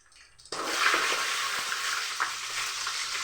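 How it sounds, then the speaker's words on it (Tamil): Onions drop into a pan of hot oil with curry leaves and garlic, and a loud, steady hiss of frying starts abruptly and carries on close and constant. "நூறு கிராம் அளவுக்கு வெங்காயம் போட்டிருக்கேன்"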